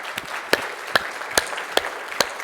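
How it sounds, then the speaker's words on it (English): Scattered claps from an audience at a conference closing keynote, a handful of distinct, evenly spaced hand claps over a quiet background, sounding thin and sparse rather than a full ovation. "So would you please join me in a final round of applause for all those people who've been up here on stage today."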